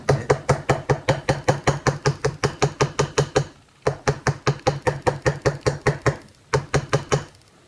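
A screwdriver is struck with a hammer to cut the outer ring of an engine gasket, giving a fast, even run of sharp, loud knocks close by, broken by two short pauses.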